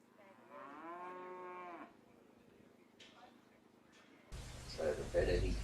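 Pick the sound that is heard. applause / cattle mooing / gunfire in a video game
cattle mooing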